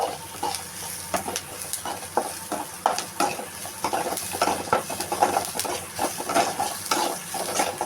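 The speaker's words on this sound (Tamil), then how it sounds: "வெங்காயத்தை நல்லா வதக்கிட்டு" Onions sauté in a pan for kuzhi paniyaram made from dosa batter, with a soft steady sizzle under frequent close scraping and clinking of the spatula against the pan, and no speech.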